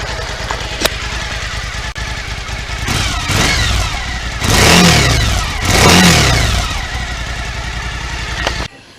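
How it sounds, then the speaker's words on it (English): Suzuki V-Strom 1000 motorcycle on its standard exhaust, idling then revved twice in two loud, close blips that rise and fall before settling back to a steady idle, then cut off at the end. "so that's standard exhaust."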